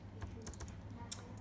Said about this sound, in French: Pardon, je tape.